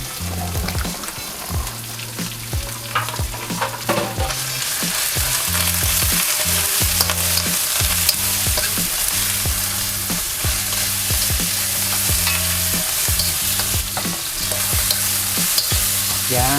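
Ground meat and onion frying and being stirred in a pan for bagoong Chinese fried rice, a steady loud sizzle broken by repeated clatter of a spatula scraping the pan, with no talking.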